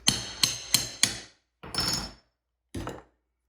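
A hammer strikes a shower threshold during demolition: four quick sharp blows in a steady rhythm, then two more spaced, slightly duller impacts, loud and close with silence between.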